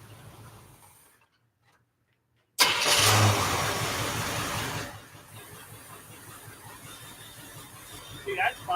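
A Chevy square-body pickup engine, its carburetor idle air-fuel mixture screws set at 1.5 turns, starts with a loud rough burst after a brief silence, then settles into a steady, lower idle around 500 RPM.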